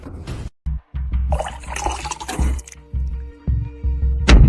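Water pours and splashes in a steady stream at a banquet setting, running for several seconds with brief gaps and a louder splash near the end.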